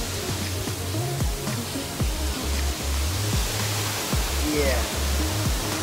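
Lanzones Falls on Mt Romelo: a steady, broad roar of falling water close by, with low rumbling thuds and voices briefly speaking over it.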